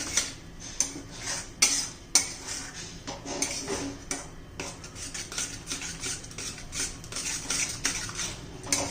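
A yogurt-based capsicum curry is stirred in a pan with a metal spoon that scrapes and clinks against the pan in a steady, repeated rhythm, close by and without talk.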